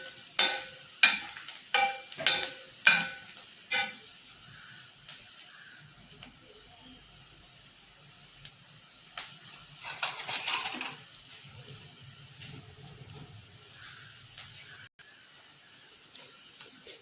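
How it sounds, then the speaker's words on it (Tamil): Onions fry in a pan for spicy pepper chicken, opening with a quick run of sharp spatula taps against the metal, then a soft steady sizzle and a brief burst of louder stirring and hissing. "வெங்காயம் நல்லா செவக்க வரணும், அப்போ தான் டேஸ்ட்டாக இருக்கும்."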